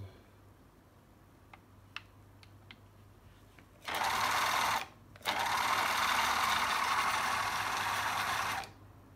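A sewing machine, quiet at first with a few faint mechanical ticks, then running loudly for about a second, pausing briefly, and running again in a long steady whirring stretch before stopping.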